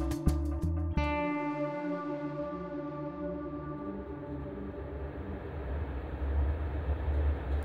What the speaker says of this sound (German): Eine Stunde später sitzen die Ricarda und der Amal aufgeregt im Intercity nach Visp